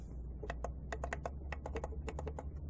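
Repeated sharp clicks of the directional keys being pressed on a Zoom G1on guitar effects pedal, a close series of about a dozen quick, uneven taps over a low, quiet background hum.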